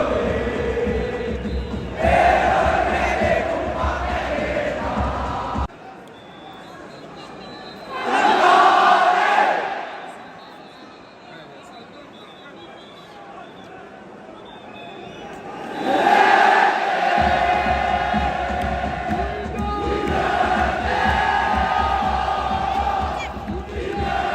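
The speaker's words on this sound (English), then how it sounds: "here is some more crowd noise for you to enjoy" Crowd noise at a Wydad football match, a dense roar of thousands of fans with chanting and surges of shouting, loud and near, dropping briefly into quieter stretches before swelling again.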